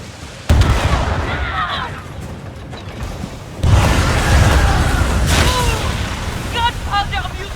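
Ship cannons firing in the naval video game Skull and Bones, two heavy booming volleys with rumbling tails, the second longer, with game voices and music in the background.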